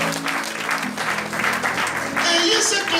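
A church congregation applauds and cheers for the Lord, loud sustained clapping that swells toward the end, with a voice speaking over it.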